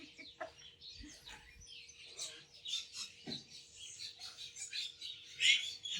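Birds chirp and call intermittently at a modest distance in a garden in the morning, with scattered high tweets and a few clucking notes over quiet background.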